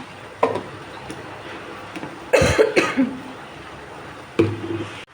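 A person who is still unwell coughs in a few sharp bursts, a pair close together mid-way and another near the end, over a quiet room with faint ticking.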